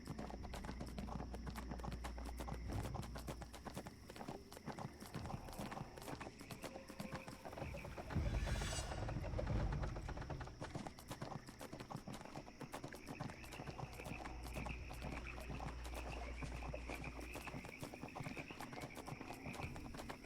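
Steady, rapid clip-clop of horse hooves in a video game goes on throughout, with a brief whooshing swell partway through.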